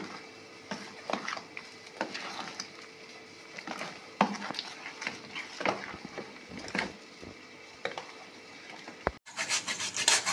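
Patali date palm jaggery rubbed against a grater in a home kitchen, giving quiet scraping rasps in an irregular rhythm with occasional light clinks, close and fairly soft.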